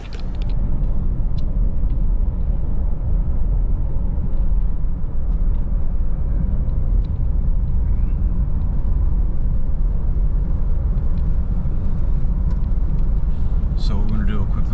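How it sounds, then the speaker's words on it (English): A car drives out of Clayton Lake State Park in southeast Oklahoma, its steady low road rumble and engine noise filling the cabin continuously, with a brief rattle near the end. "Christian's gonna be driving us out of here"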